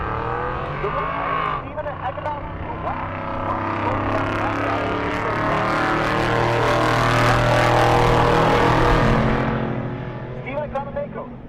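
A Ford F-100 truck racing down a drag strip at an event, its loud engine roar building and sustaining before fading, with an announcer talking over it.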